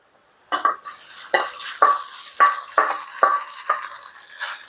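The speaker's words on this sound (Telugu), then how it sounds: "కరివేపాకు పచ్చిమిర్చి వేసాక చాలా జాగ్రత్తగా ఉండాలండి, చిల్లుతుంది." Curry leaves and green chillies hitting hot tempering oil for tamarind pulihora, a run of about seven sharp sizzling bursts and scrapes at a fairly even pace, close and fairly loud.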